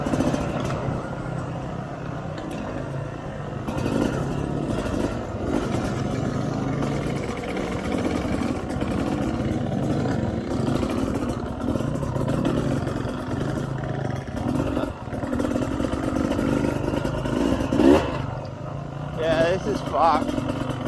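A small 125cc dirt bike rides ahead on a trail, its mid-pitched engine buzzing steadily and fairly loud throughout, mixed with wind and riding noise, with a few brief spoken remarks over it.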